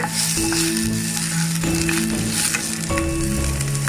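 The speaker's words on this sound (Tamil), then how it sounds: "ஆனியன் லைட்டாக வதங்கினதும் நம்ம கேப்சிகம் சேர்த்துக்கலாம்." Chopped onion and capsicum sautéing in a pan for Schezwan mushroom fried rice, a dense close sizzle with a few stirring scrapes and faint tonal hum in the background.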